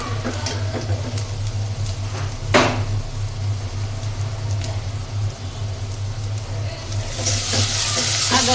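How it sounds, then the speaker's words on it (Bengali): Thin nehari broth cooking in a pan gives a steady close sizzle with scattered pops and clinks, rising to a brighter hiss near the end. "নেহারির পাতলা ঝোল রান্না করবো এখন।"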